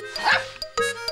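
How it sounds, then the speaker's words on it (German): A cartoon puppy yips and barks happily in a children's animated show, a few quick excited bow-wows in a short burst over light background music. "sprang Schnuffi auf und ab und bellte vor Freude"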